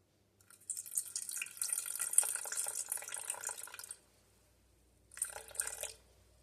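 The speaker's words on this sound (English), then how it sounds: "I'll make sure to add more water than starter." Water trickles into a sourdough starter in two pours, a longer close pour and then a brief second splash after a short pause, soft and alone with no talking.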